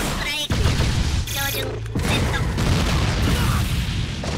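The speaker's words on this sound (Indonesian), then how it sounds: "Ditembakin banyak peluru, Pak. Ada basoka, ada ledakan, berbagai macam ledakan tadi ya." Gunfire and explosions from the Naruto Ninja Storm 4 mod video game, with a robot-style Naruto character: a dense, loud barrage of blasts and mechanical bursts, continuous and close, with a brief break partway through.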